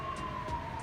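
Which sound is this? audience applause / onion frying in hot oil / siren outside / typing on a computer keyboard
siren outside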